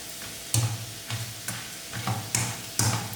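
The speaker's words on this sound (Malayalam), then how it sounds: "അതുപോലെ അങ്ങ് ഫ്രൈ ചെയ്തെടുക്കാം നമുക്ക്." Dried jackfruit rind kondattam frying in hot oil, crackling and sizzling steadily with a series of regular stirring clinks about every half second, close and moderately quiet.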